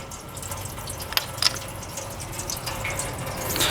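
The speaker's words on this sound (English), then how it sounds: "Open the radiator cap to make it drain a little bit faster." Coolant draining from the radiator of a 1998-2002 Honda Accord V6, a steady faint trickle and splash of liquid with a few small drips standing out.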